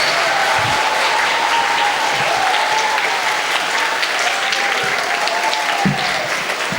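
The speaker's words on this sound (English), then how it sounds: "Let us give a huge round of applause." A school assembly audience claps in sustained, dense applause for about seven seconds, loud and steady with a faint tone running underneath.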